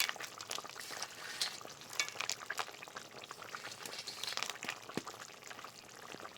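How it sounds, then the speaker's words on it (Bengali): Fish head curry with lentil dumplings bubbling in a pot, a steady faint simmering crackle with scattered small pops throughout, no voices. "এবারে বড়িগুলো সব দিয়ে আবারও একটু ফুটিয়ে নেব।"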